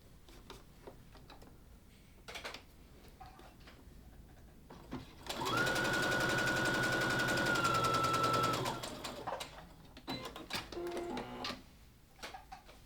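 A sewing machine stitches a short seam along the folded short edge of scrunchie fabric, running steadily for about three seconds in the middle of the clip with quiet handling noises before and after.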